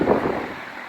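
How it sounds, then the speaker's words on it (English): Short burst of rushing, buffeting air blasting straight into the microphone, loud and broadband like a fan blowing close by. "if I'm in front of a fan, it sounds like this"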